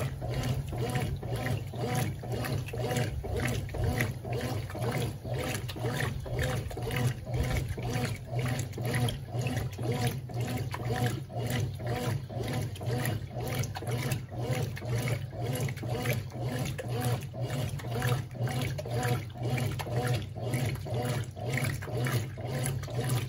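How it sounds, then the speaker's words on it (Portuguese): A Brastemp Ative BWL11 washing machine fills with water, a steady wash of running water under a fast, regular mechanical ticking and churning rhythm that holds evenly and closely throughout. "Eu deixei ela colocar um pouco de água e passei pro nível médio."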